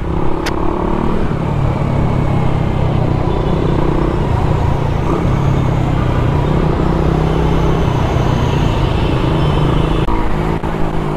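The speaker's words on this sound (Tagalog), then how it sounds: "Naku po, mukhang traffic ah." Road traffic around a Suzuki Raider 150 Fi motorcycle on the Marilaque highway, a loud continuous engine drone and rumble of nearby vehicles heard from the saddle, with no voices.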